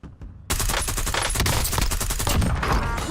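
Rapid, sustained automatic gunfire from shooting bots in the video game Warzone, loud and close, bursting in dense overlapping volleys after a brief quieter start.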